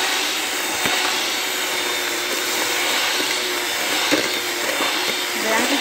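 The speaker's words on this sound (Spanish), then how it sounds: "Comenzamos a batir." Electric hand mixer beating vanilla cake batter with a spoonful of vanilla and lemon zest, a steady whirring motor drone held close and loud throughout with slight scraping variations.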